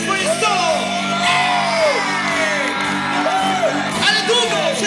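Large crowd shouting and cheering continuously, a dense loud roar with rising whoops and yells throughout.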